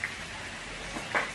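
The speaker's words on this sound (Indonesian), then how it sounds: "Nah, hujannya masih gerimis." Light drizzle falls outdoors during a roadside stop near a celebration, a soft, faint patter with a couple of slightly brighter drop sounds near the end and no voices.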